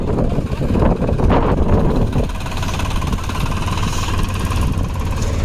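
A Farmtrac tractor engine runs loud and steady while pulling a boat toward the sea, its low rumble mixed with heavy wind buffeting the microphone, with a burst of louder roughness early on.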